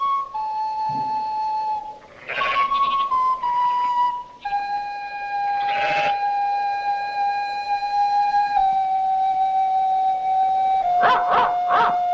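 Several dogs howl in long sustained wavering tones, overlapping with a few sharper bark-like bursts, loud and fairly close with no talk.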